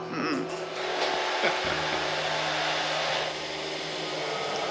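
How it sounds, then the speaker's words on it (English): A vacuum cleaner running in another room drones steadily with a high whine, sounding somewhat distant, its pitch dipping briefly as it shifts before running on evenly. "the ghosts are running the vacuum in the other room now."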